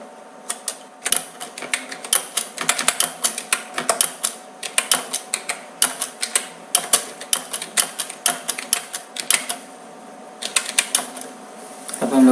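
Close, clattery keystrokes on a computer keyboard come in quick irregular bursts with short pauses between runs of typing, and no voices are heard.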